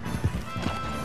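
A horse in Red Dead Redemption 2 Online gallops with quick clip-clopping hoofbeats and a short whinny, close and fairly loud over the game's ambient sound.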